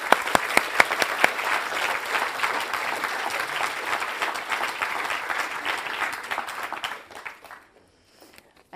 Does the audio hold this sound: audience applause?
yes